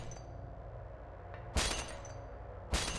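Glass shatters twice in Silent Hill, each a sharp, bright crash arriving about a second apart over a low, murky ambient hum.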